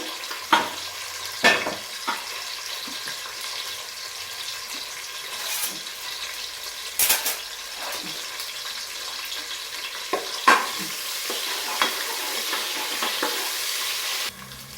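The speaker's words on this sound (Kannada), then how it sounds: "ಈಗ ನಾನು ಇದಕ್ಕೆ ಆನಿಯನ್ ಹಾಕ್ತಾ ಇದ್ದೀನಿ. ಒಂದು 2 ಆನಿಯನ್ ತಗೊಂಡಿದ್ದೀನಿ, ಚಿಕ್ಕದಲ್ಲು. ಆನಿಯನ್ ಫ್ರೈ ಆಗಬೇಕು." Two small chopped onions frying in a pan for mushroom biryani, a steady close sizzle broken by sharp scrapes and clatters as a spoon stirs them now and then, with no voice.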